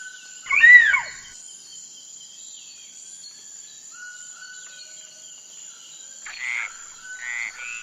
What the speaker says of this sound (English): Poison dart frog.